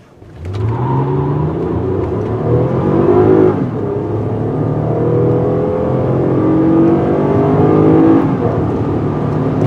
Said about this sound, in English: This V6 engine is not only smooth and quiet, it's also pretty powerful